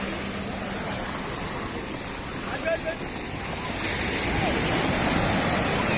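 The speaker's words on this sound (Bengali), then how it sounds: "এখন কত সুন্দর কিন্তু ঢেউ আসতেছে।" Sea waves break and wash in on a sandy beach at Cox's Bazar in Bangladesh, a steady roaring surf with wind noise, swelling louder toward the end, under faint people's voices.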